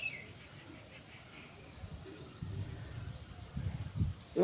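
Bird chirping on a rooftop in the morning, a few short high chirps at intervals over low rumbling background noise, faint and somewhat distant.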